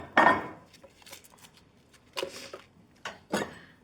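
Dried chiles dropped into an open blender jar for a taco al pastor marinade, giving a few brief dry rattling clatters spaced out over several seconds, fairly close and otherwise quiet.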